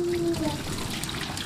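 Greenish wash water from bitter leaf, rinsed for Nigerian bitter leaf soup, drains away in a continuous trickling pour, close and steady, with a brief tonal squeak at the start.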